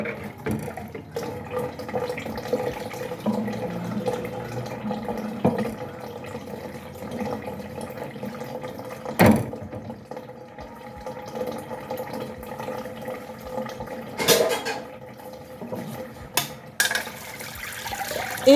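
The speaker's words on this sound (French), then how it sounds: "Je rince une 4e fois." Cabbage being rinsed under a running kitchen tap, a steady moderate stream of water splashing in a sink for a long stretch, with a few sharper clatters and splashes.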